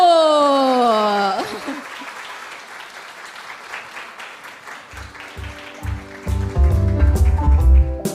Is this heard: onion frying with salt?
no